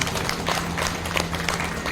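An audience at a Shrimad Bhagavat Katha gathering in Mayur Vihar claps steadily, a dense, loud patter of many hands filling the whole moment.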